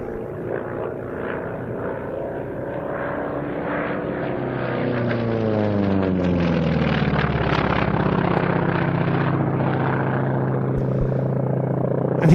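A WWII naval fighter propeller aircraft passes at an air show, its engine drone growing louder and sweeping downward in pitch as it flies by, loud and alone.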